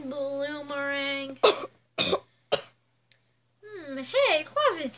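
A few sharp coughs break up animated cartoon-style talking, with short bursts of voice before and after them.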